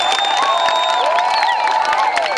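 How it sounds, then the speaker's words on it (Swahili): A large crowd at a parliamentary campaign launch rally in Bariadi Mjini cheers loudly and continuously, with shrill whistles and ululating cries over the roar. "Mpigieni makofi mengi sana."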